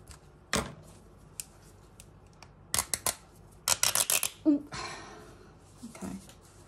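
Hand-ripping a stiff piece of fabric for a weaving project gives sharp, close tearing rasps, a few isolated ones and then a quick cluster, with a voice speaking now and then.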